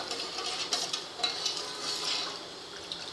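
Sweet kharvas milk pudding mixture in a pressure cooker is stirred to dissolve the sugar, giving a soft continuous scraping and swishing with light taps of the utensil, close and steady.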